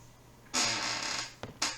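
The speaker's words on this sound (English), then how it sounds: "Excuse my creaky chair." A creaky chair lets out a long, loud, close creak lasting most of a second, followed by two shorter creaks as the sitter shifts, with no talking.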